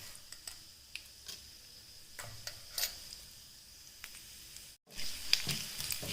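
Mustard seeds, urad dal, fenugreek, cumin and asafoetida crackle in hot oil for sambar, with sparse, faint pops and ticks scattered over a low, quiet background.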